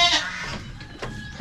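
Small young goats bleating in a farm pen, a loud close cry at the start followed by fainter bleats, with some background noise.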